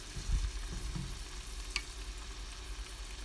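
Food browns in a pan with a soft, steady sizzle and a few faint stirring scrapes, heard fairly quietly with no talking.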